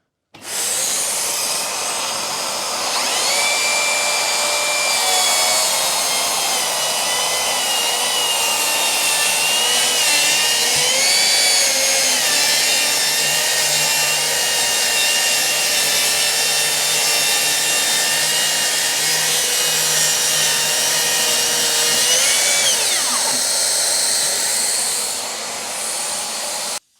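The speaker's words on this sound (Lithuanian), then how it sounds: "bandysim atpjauti gabalo ąžuolo 6 cm storio" A Makita HS004G 40V cordless circular saw, run with a dust extractor attached, cuts through a 6 cm thick oak board. The whine is loud and steady, and the blade pitch shifts under load for about twenty seconds before it spins down. No one speaks.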